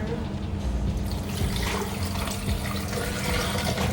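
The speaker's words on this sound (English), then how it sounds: "I'm gonna add the water." Water pours steadily into a blender jar while making mango carrot juice, a continuous close splashing fill lasting several seconds with no voices over it.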